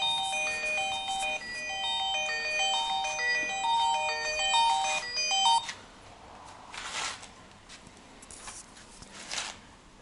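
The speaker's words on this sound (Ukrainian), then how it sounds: "хтось дзвонить." A mobile phone plays a bright melodic ringtone of repeated tonal notes for about five seconds inside a workshop with a large surface grinder. It stops, leaving quieter workshop clatter and noise.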